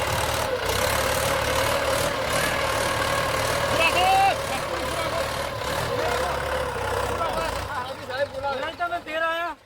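A tractor engine idling steadily at a low rumble, close by, under ongoing conversation between several people, with the voices growing livelier toward the end.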